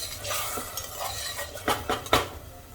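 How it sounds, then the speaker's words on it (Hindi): Rice and peas stirred and fried in a pan for a Sindhi pulao, with a soft sizzle beneath scraping spoon strokes and a few sharper clinks of utensil against metal near the end. "और चावल को भी भून लेंगे 1 मिनट के लिए।"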